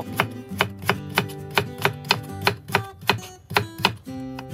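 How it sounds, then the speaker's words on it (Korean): A knife finely julienning radish on a cutting board, steady rhythmic chopping with about a dozen crisp evenly spaced strikes, close and clear with no talk. "무는 잘게 채 썰어서 준비를 해주세요."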